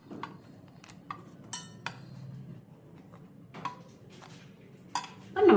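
A spatula scrapes and taps against an iron kadai as food is flipped, producing a series of faint metallic clinks and scrapes over a quiet sizzle.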